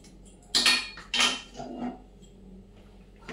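A metal pot of boiled potatoes lifted off a kitchen stove, two sharp clanks in quick succession followed by softer scraping and a light knock, close by and otherwise quiet.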